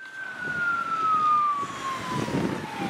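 An ambulance siren wails in traffic at Burbank and Shoup, one long steady tone sliding gradually lower as it passes, moderately loud over road rumble.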